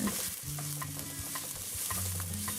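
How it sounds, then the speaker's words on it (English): Garlic sizzles in hot oil in a pan for a Trinidad curry shrimp, a steady close frying hiss broken by brief scraping stirs, with no voices. "add your garlic in and stir it so that the garlic doesn't burn"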